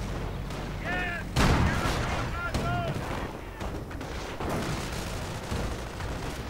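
A WWII strategy video game battle, with rapid rifle and machine-gun fire, booming explosions and sharp impacts crackling continuously, plus brief whistling tones, all loud and dense throughout.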